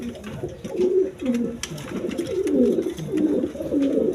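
Pigeons on a farm coo in low, repeated rolling calls, several birds overlapping at close range with a soft rustling background and no talk.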